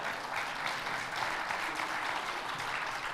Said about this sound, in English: He should get a round of applause for that.